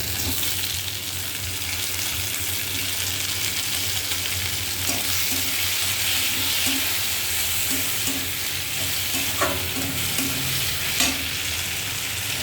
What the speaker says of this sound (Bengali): এবার এই যে কেটে রাখা টমেটোগুলো দিয়ে দেবো।